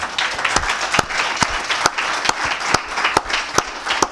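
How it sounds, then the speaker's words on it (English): An audience at a travel trade event applauds, with steady close clapping throughout and sharp individual claps standing out in a regular rhythm for about four seconds. "he deserves a big round of applause"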